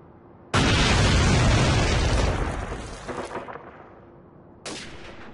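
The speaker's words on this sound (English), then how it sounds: "Enemy airstrike approaching!" Airstrike explosions in the shooter game Call of Duty 4: a sudden loud, close blast rumbles and fades over a few seconds, followed by a second, sharper detonation near the end.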